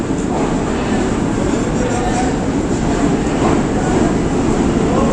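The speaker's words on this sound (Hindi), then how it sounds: "चाइनीज़ लोकोमोटिव लेकर आ रहा है 40 डाउन जाफ़र एक्सप्रेस को" Jaffar Express pulled by a Chinese locomotive rolls into Rawalpindi station, a steady, loud rumble of train wheels and engine running unbroken throughout.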